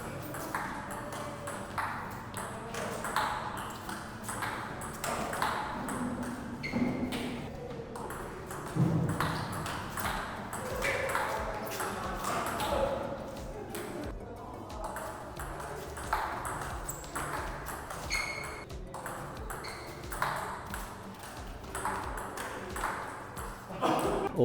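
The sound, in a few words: table tennis ball hit with wooden racket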